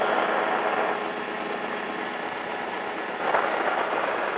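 Light training aircraft engine heard from inside the cockpit, a steady broadband drone held at a constant level as the throttle is eased back toward about 5,600 RPM, with a slight swell near the end.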